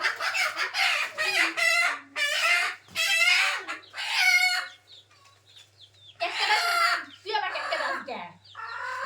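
Farmyard chickens clucking with a rooster crowing, a run of loud, close, repeated calls in bursts separated by short pauses.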